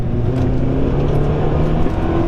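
Ford Focus engine droning loudly from inside the car, revving steadily under load as it pulls through the gears, with no voices.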